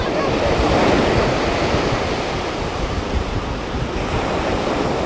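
Ocean surf rolls in steadily on a beach in Savannah, Georgia, a loud, continuous wash of breaking waves with a constant roar and some wind buffeting the microphone, no voices present.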